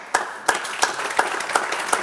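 Separate, evenly spaced sharp claps, about six in two seconds, ring out fairly close in a slow rhythmic pattern, more like one or a few people clapping than full applause.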